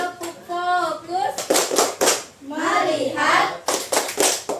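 A classroom clapping game where a group of learners answers a call with short bursts of rhythmic hand claps, alternating with chanted and spoken voices of the teacher and students between the claps.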